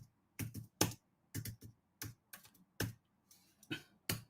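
Fingers type on a computer keyboard, loud close clacks arriving in short irregular bursts with brief silent gaps between keystrokes.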